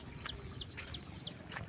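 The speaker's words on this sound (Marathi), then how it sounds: "पक्ष्यांची किलबिलाट ऐकू ते बघा" Birds chirp beside a maize field in a village. Short, high calls repeat in small clusters, faint and somewhat distant, over a steady outdoor hush.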